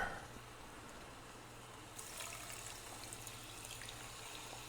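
Sparkling water pours with a soft, steady liquid hiss and fizz. The sound turns brighter and busier about halfway through and stays faint and close, with no talking.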